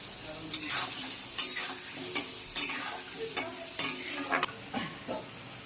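Continuous oily sizzling of potatoes frying with turmeric until reddish-brown, punctuated by regular scraping strokes of a spatula stirring in a pan, close up with no talking.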